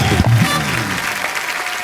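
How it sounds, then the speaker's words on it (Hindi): A studio audience at a TV comedy show breaks into loud, dense applause for a performer, starting strong with a brief voice or musical tone at the outset and then holding a steady wash of clapping to the end. "जोरदार तालियां पंकज भाई के लिए"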